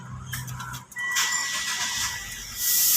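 Mitsubishi Xpander 2021 engine starting from inside the cabin, a brief starter whine and squeal followed by the engine catching into a steady idle, with a rise in level near the end.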